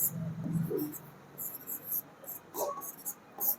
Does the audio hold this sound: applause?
no